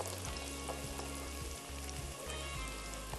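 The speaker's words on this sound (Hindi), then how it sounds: "प्याज जो हमारी झटपट ब्राउन हो जाएगी क्योंकि ऑयल अच्छा खासा गर्म हो गया था।" Onions frying fast in very hot oil in a pan, a steady dense sizzle with a low background hum throughout, no voices.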